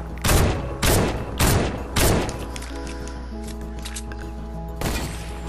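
Fortnite gunshots ring out as four loud, evenly spaced blasts in quick succession, then a pause with faint game ambience and a final shot near the end.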